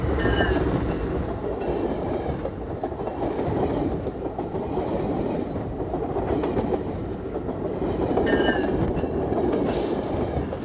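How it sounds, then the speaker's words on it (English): A train rumbles past near a nuclear power plant in a continuous low roar with clickety-clack wheel rhythm and a few brief high squeals, heard at moderate distance with no talking. "The train's going by."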